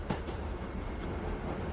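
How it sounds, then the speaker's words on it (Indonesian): A fast-moving train rumbles and roars steadily, with a low continuous drone, faint rattling and a thin whistling hiss of wind, heard close as if from inside a carriage. "Suara derung mesin kereta melaju cepat, bertabrakan dengan angin luar yang menciptakan suara seperti peluit bising."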